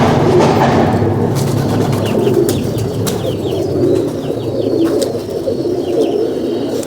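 Ferozpuri pigeons coo with soft repeated calls. Brief wing flaps can be heard over a busy, noisy background, with no one speaking.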